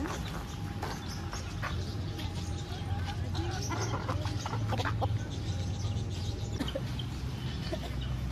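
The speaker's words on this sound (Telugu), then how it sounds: "మనకి ఎంట్రన్స్ అయితే ఈ బర్డ్స్ అయితే ఉంటాయి ఇక్కడ" Chickens cluck repeatedly in the background at an exotic animal park entrance in Tirupati, with occasional sharper calls over steady outdoor ambience and low rumble.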